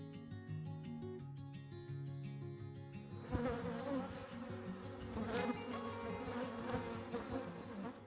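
Honey bees buzzing around an open beehive where they build comb, a dense droning hum that starts behind music and then carries on alone, close and fairly quiet.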